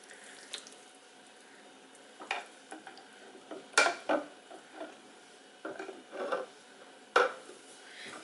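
Apple butter in a slow cooker is stirred with a utensil, giving irregular wet scrapes and soft knocks against the pot, fairly faint and close, with quiet pauses between strokes and no talking.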